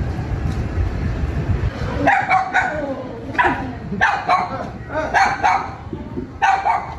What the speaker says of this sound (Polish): One psy się tam pochowały pod krzesłem.